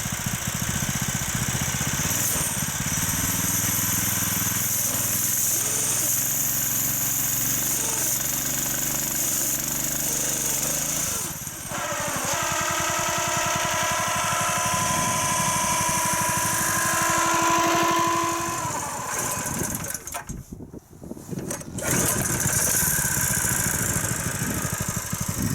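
The small petrol engine of an RC winch runs close and loud, a steady buzzing drone whose pitch rises and falls as it revs, with a brief dip near the end.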